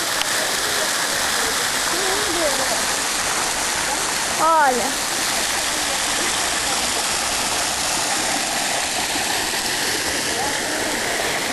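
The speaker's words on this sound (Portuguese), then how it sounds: "Gente, essa é a cachoeira." The Macuco waterfall roars steadily throughout, a dense rushing wash of water; a person speaks briefly over it partway through.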